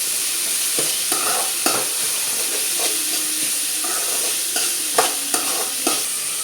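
Carrots frying in a pan for masala dosa filling: a steady, close sizzle runs throughout, broken by intermittent scraping and clinking as the pieces are stirred. No one speaks.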